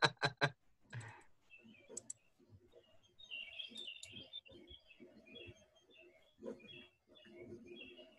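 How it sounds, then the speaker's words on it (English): Birds chirping in the background of a virtual club meeting, faint scattered high tweets and short calls spread across the clip alongside a few sharp taps and clicks near the start. "Who's got birds? That's me. Let me turn the birds off."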